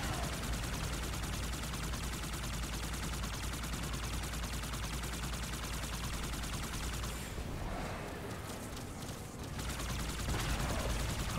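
Sustained enemy gunfire in Halo 2 on Legendary, steady rapid shooting that fills the whole stretch at an even level, briefly thinning partway before resuming.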